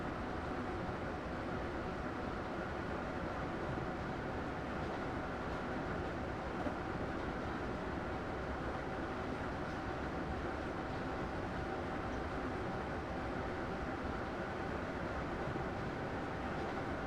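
A train runs in Train Simulator 2017, giving a steady, loud rolling rumble with a broad rushing hiss that holds unchanged throughout, with no voices.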